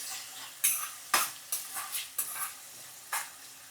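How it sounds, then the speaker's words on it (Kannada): Green peas frying in a tempering over high flame while being stirred, with a soft sizzle under repeated sharp spoon scrapes and clatters against the pan at an irregular rhythm, close and without talk. "ಬಟಾಣಿ ಹಾಕಿದ ಮೇಲೆ ದೊಡ್ಡೂರಿನಲ್ಲೇ ಚೆನ್ನಾಗಿ ಒಂದು ನಿಮಿಷ ಹೀಗೆ ಕೈ ಬಿಡದಲ್ಲೇ ಹಿಂಗೆ ಗುರಾಡಕ್ಕೆ ಅಂತ ಬೇಯಿಸಬೇಕು"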